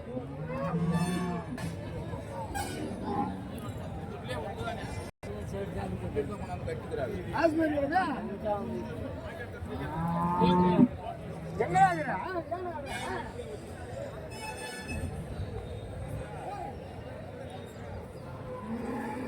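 Cattle low repeatedly amid a busy crowd at the Santhipuram cattle market in Andhra Pradesh, with people chattering throughout and occasional vehicle noise in the background.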